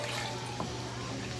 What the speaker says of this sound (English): She's just going to pour it right in here.